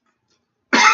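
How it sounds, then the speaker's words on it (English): After near silence, a single loud, close cough comes from a presenter during a news commentary and cuts off abruptly. "I should have timed that cough"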